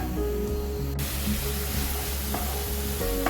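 Ground tomato paste sautéing in a pan on medium heat, a continuous soft sizzle with light stirring and a couple of faint utensil taps, no talking.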